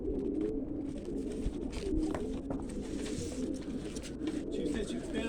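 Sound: pigeons cooing

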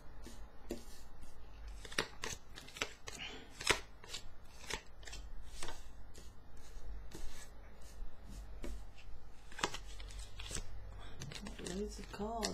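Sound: tarot cards being shuffled

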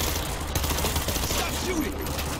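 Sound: gunfire in video game World War Z

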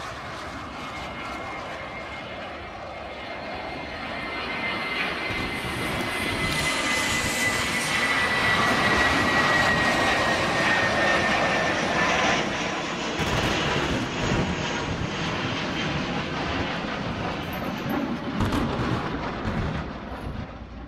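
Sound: airplane taking off

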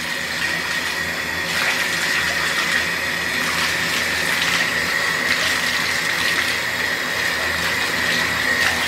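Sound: running water while washing hair

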